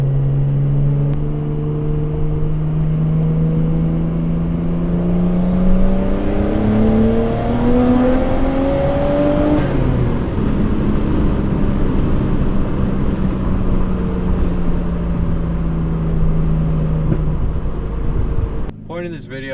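A Nissan R32 Skyline drives through corners, heard from inside the car. Its engine note climbs steadily under acceleration, peaks, then eases and settles as the car rolls through a bend, loud and close throughout.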